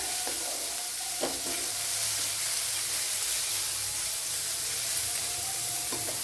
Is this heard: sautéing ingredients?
yes